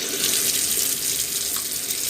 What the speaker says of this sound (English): So what I'm doing now is turning this over to the hot water